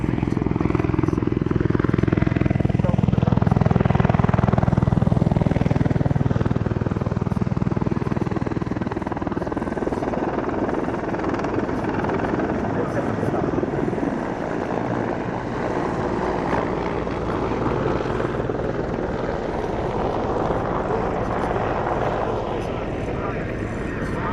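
A military helicopter hovers at display centre at the Duxford Battle of Britain air show. Its loud, steady rotor and engine roar fills the air throughout, dipping slightly partway, while a commentator speaks over it.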